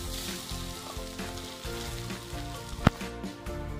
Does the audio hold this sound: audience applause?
no